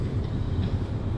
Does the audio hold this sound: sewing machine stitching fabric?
no